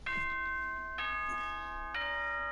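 Announcement chime from the video game Danganronpa 2, three clear bell-like tones spaced about a second apart, ringing out with no talk over them.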